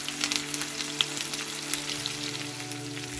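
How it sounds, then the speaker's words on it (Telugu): Thinly sliced onions fry with curry leaves in hot oil for an amaranth and moong dal fry. A soft, steady sizzle with light crackles holds over a low constant hum. "దీనిలో ఇప్పుడు మనం సన్నగా కట్ చేసుకున్న ఉల్లిపాయ ముక్కలు వేసుకోవాలి."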